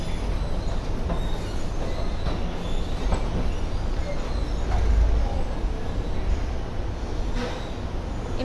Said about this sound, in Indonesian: Ini keretanya bakalan berhenti-berhenti gitu, jadi memang ini versi yang lama ya, versi yang stop-stop.